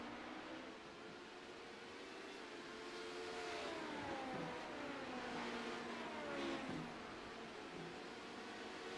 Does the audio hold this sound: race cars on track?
yes